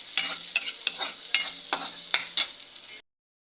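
Garlic, onion and ginger sautéing in a pan for squid adobo, a soft sizzle broken by a series of sharp, regular stirring scrapes close up, then quiet at the end.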